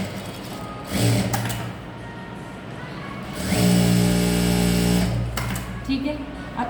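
Sewing machine stitching a blouse, running in two loud bursts, a short one near the start and a longer steady whir in the middle, with quieter handling sounds between and after.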